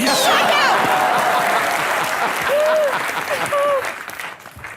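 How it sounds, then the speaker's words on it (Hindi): A studio audience at the comedy show Comedy Nights With Kapil gives loud, sustained applause, a dense wash of clapping with a few high whistles, fading toward the end. "जोरदार तालियां"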